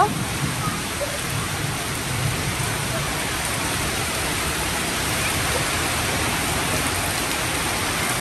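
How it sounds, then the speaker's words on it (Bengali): Heavy rain falls outside a village house while a curry is cooked indoors, making a steady, full wash of hissing water that holds at one level throughout, with a brief bump at the very start. "আর বাইরে অনেক বৃষ্টি"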